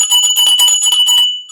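A brass puja hand bell rung steadily during worship, bright sustained ringing tones pulsing in quick repeated strokes, close and loud, then left to decay into a lingering hum.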